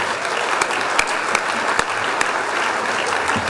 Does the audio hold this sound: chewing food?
no